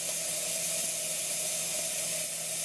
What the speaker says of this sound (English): So your steam release is on this side, so it's just turned on.